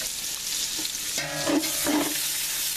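Bacon strips and onion frying in a metal pot, a steady sizzle with scraping and stirring clatter near the end, close and moderately loud with no talking.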